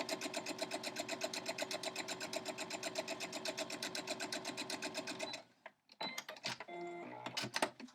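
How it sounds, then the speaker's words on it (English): Home sewing machine stitching quilt patches with a quarter-inch seam, a fast steady close-up whirring chatter that runs for several seconds, then stops and is followed by brief handling and fabric noises. "Sew these together right now with a 1/4 inch seam allowance."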